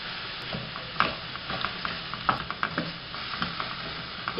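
Mushrooms frying in a pan with salt and Provençal herbs, a soft steady sizzle broken by irregular scraping clicks of stirring, close and moderately quiet, with no voices.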